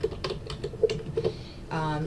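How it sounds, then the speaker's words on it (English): A few soft, sparse keystrokes tap on a computer keyboard, close and quiet, before a voice briefly starts talking at the end. "You just type in there."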